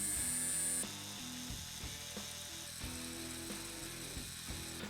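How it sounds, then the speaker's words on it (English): A LEGO Powered Up motor runs freely with no load, giving a faint, steady mechanical whir and rapid clicking of meshing plastic gears, alone and up close. "the motor runs freely."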